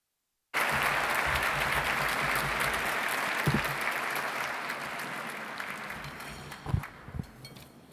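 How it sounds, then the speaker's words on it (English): Sustained applause from a dinner audience at a refugee organization's 45th anniversary gala, dense steady clapping that starts abruptly, holds loud and slowly thins over several seconds, with a few sharper claps near the end. "Let's give another round of applause for these incredible individuals"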